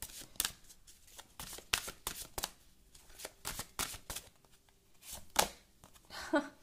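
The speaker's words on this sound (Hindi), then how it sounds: "मैं एक कार्ड एज ए एडवाइस आप लोगों के लिए निकालना चाहती हूँ यहां से।" Tarot cards being shuffled and drawn, a rapid series of close riffling flicks and soft slaps in bursts, quiet overall, with a few faint sounds of someone talking.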